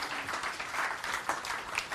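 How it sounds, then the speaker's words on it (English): Applause from a conference audience at a London blockchain and cryptocurrency event, a moderate, steady patter of clapping in a hall with slight swells. "Give him an extra round of applause while we set this up"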